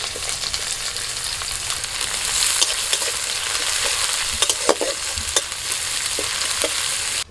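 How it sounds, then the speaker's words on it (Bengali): Chopped onion and dried chillies fry in a wok, giving a constant close sizzle broken by scraping stirs and a few sharp clinks of the utensil. "লঙ্কাটা একটু ভাজা হলে ওর মধ্যে দিয়ে দিচ্ছি পেঁয়াজ কুচি।"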